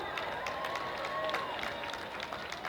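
Rally crowd applauding and cheering in a steady, dense wash of claps and voices, fairly distant and continuous throughout.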